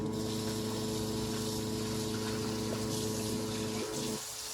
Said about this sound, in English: So now I'm going to wash my stevia.